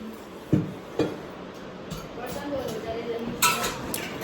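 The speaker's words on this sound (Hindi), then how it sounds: "देखो ये बर्तन धो रही है" Dishes being washed, with sharp clinks of metal pots and utensils knocking together at irregular intervals over running-water hiss and faint background voices.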